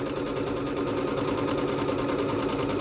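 A Bernette B-77 sewing machine stitches a decorative pattern, its needle hammering in a fast, steady, even rhythm over a humming motor, close and clear with no talking.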